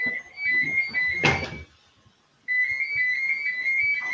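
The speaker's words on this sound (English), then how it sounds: "I cannot believe my phone is ringing." A phone rings with a steady electronic tone, pauses briefly after a short clatter, then resumes ringing, with faint sounds of movement beneath.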